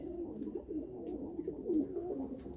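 Pigeons in a fancier's loft coo in a soft, continuous, close murmur of overlapping low calls.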